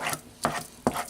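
Cream cheese mixture for pumpkin spice mousse being stirred in a bowl, giving three distinct close scraping strokes about half a second apart with no talk.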